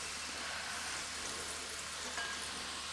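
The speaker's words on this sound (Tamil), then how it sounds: "அது கொஞ்சம் ஃப்ரை ஆகட்டும் ஆயிலில்." Food spreads in hot oil over a medium flame, with rice flour added to the mix, giving a steady, soft, even sizzle that stays faint and constant throughout.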